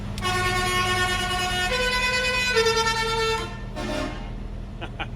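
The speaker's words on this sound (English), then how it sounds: "let's see who's got the loudest horn" Vehicle horns sounding on a farm, a loud sustained tonal blast that shifts pitch in a few stages over several seconds, then a shorter honk and a couple of brief toots, close and prominent over a low engine rumble.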